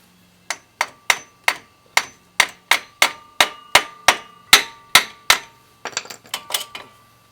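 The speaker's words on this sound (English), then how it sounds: "These, it looks like I'm going to have to hammer this a little bit." A steady series of sharp metallic hammer strikes on a GMC Yukon Denali brake caliper, about one every third of a second, ringing briefly, then a quicker cluster of lighter taps at the end.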